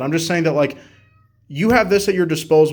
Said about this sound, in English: That's my cat in the background, don't mind him.